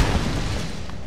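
An object blown up in the Tomb Raider video game: one heavy, deep explosive boom that fills the whole moment and fades slowly, loud and close.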